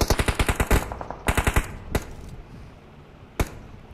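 Rapid automatic gunfire in the BGMI battle royale game, a loud burst of about a dozen shots followed by a second short burst, then single sharp shots at intervals; no talk.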